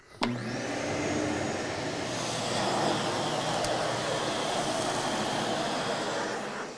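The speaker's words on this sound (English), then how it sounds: "Then when we're done, I can grab the vacuum." A vacuum cleaner runs steadily and loudly as it cleans a subfloor before an engineered hardwood flooring install, with a broad, even roar starting abruptly and holding for several seconds.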